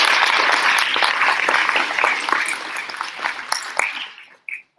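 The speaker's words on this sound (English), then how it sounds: "big round of applause" An audience at a talk about Guantanamo claps in a round of applause, fairly loud at first then thinning and fading out near the end, with a few scattered last claps.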